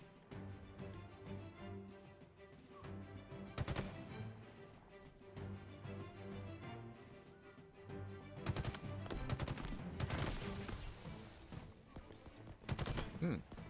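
Gunfire in the video game Halo Infinite: bursts of rapid automatic shots and sharp cracks over a droning game soundtrack, with louder clusters of shots midway and near the end.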